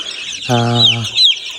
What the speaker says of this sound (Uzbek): Bularda asosan yapon tovuqlar ochib chiqqan.